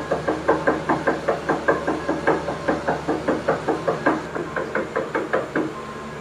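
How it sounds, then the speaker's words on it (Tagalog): Loud, rapid knocking repeats in a steady, insistent rhythm of about four blows per second, close and forceful over a low background hum at night. "napakalakas kumatok"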